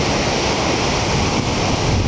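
Ocean waves break and wash steadily at Sendai port, a loud, dense roar of surf mixed with wind buffeting the microphone, with no voices.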